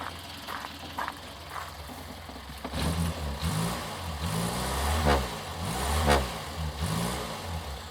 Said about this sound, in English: Sounds just like your Mogy should. Really, really does. Settles down to a lovely idle.